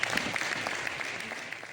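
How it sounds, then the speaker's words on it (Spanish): Applause from the audience at a regional motorsport gala in Jaraíz de la Vera, greeting the town's mayor as he comes up on stage. It sounds as a steady, dense wash of many hands clapping, fairly distant and moderate in level, with no talk. "Un aplauso para él."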